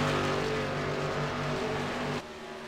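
Race cars on the Monza circuit roar past in a steady, loud engine drone with a strong pitched tone, cutting off sharply near the end, with no talk over it.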